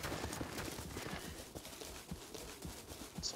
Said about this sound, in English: Someone's on horse over here.